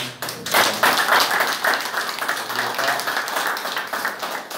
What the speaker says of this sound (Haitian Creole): Et applaudis le comité, non?